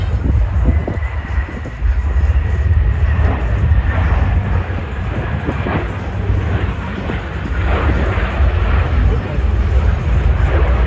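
Military aircraft pass over the Ayr International Airshow 2025, a loud, heavy, continuous low roar that swells and holds for several seconds while an announcer's voice carries over the public address.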